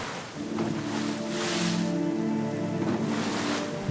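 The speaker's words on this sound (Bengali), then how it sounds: "বাড়তে লাগলো বৃষ্টি গুম গুম করে বাঁধের গায়ে জল ধাক্কা মারার শব্দ পাচ্ছিল" Heavy rain roars in a dense, continuous wash with a low rumbling undertone, like water pounding steadily against a dam, loud and without pause.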